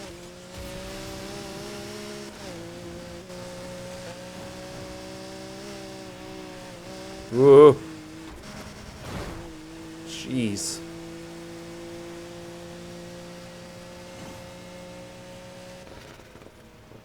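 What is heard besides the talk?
Lamborghini Aventador SVJ engine in video game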